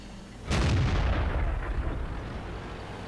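A tank's main gun fires in the game World of Tanks, one heavy boom with a sharp onset followed by a long rumbling decay that fills the low end and fades slowly.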